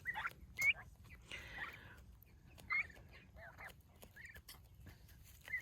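Backyard chickens making short, sharp clucks and squawks in a few scattered bursts over a quiet, low rumbling background outdoors near a garden.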